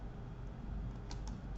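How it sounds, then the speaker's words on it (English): Quiet typing on a computer keyboard during a web-coding lesson: a few soft, separate keystroke clicks over a faint room hiss. "So now we'll now start typing."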